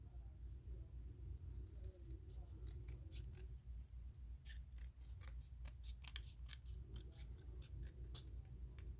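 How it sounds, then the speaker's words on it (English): Small scissors snip around a water slide decal for a diecast model car, making a string of faint, crisp, irregular cuts close by against a low background hum. "I always start by trimming out the next piece."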